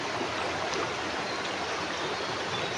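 A stream flows beside a village house in Konkan, giving a steady, broadband rush of running water that holds even throughout without a break.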